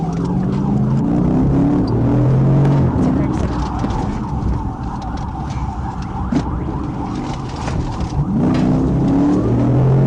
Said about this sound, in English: As I approached the vehicle, it accelerated and turned onto Rodney Parham.